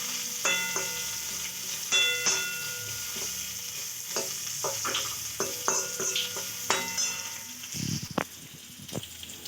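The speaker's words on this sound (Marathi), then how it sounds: "याला थोडा वेळ फ्राय होऊ द्यायचं" Vegetables for noodles fry in a pan with a constant close sizzle, punctuated by repeated clinks and scrapes of a utensil stirring against the metal.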